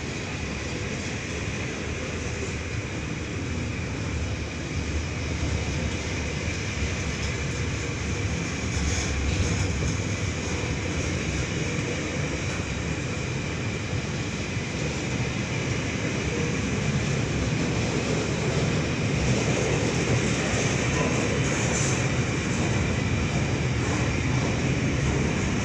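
A Pacific National steel freight train rolls past at Tempe station, a steady loud rumble and rail roar sustained for the full length, close by and without talk.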